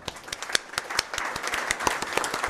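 A room of attendees at an industry federation board meeting applauds their president with steady, dense clapping. It is moderately loud and continuous, with no talking over it.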